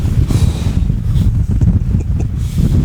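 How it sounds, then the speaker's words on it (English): Strong wind on an exposed Lake District fell roars and buffets close against the microphone in continuous low gusts for a few seconds, with no one speaking. "I don't want to get too close because it is flipping windy"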